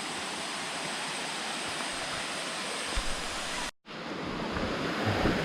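Erawan Waterfall's water rushes in a constant broadband roar, close and steady, with a momentary break near the end before the flow resumes.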